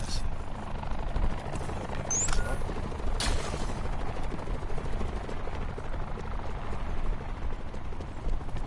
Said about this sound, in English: There's like 2 choppers heading over to the freaking south.